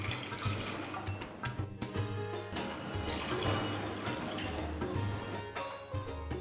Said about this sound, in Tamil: சாஸ்பேனில் 3 கப் தண்ணி ஊற்றி